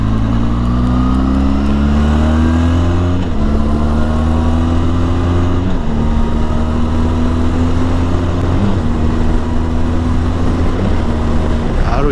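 A Benelli TRK 502X adventure motorcycle accelerates hard on asphalt, its engine note climbing in pitch through several gear shifts, each shift marked by a brief dip before the rise resumes, loud and close throughout.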